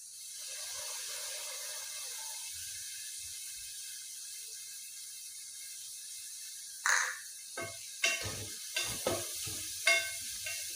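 Soy sauce goes into chicken fried rice in a hot pan: a steady sizzling hiss, then a sudden louder splash of sizzle followed by several scraping stirs and clatters, close and alone.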